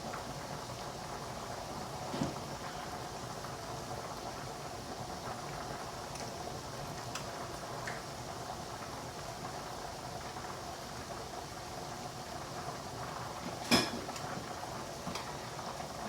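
A pot boiling on a home stove while a chicken and stuffing casserole and potato soup are prepared, a steady bubbling hiss with occasional faint clinks of kitchenware, no talk.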